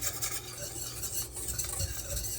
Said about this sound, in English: But I do take a little whisk. I kind of stir it up just to kind of incorporate some air in that flour.